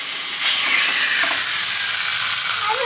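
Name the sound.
fish frying in a pan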